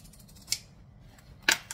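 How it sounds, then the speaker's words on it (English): Zigzag pinking scissors cutting fabric for a sewn saddle bag, two crisp snips close to the mic about a second apart with a faint rustle between. "grab your zigzag scissors again"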